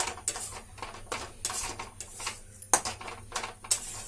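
Besan halwa being stirred in a pan: repeated scraping strokes of a spoon against the metal, rhythmic swishes roughly every half second with occasional sharper clinks, close and fairly quiet.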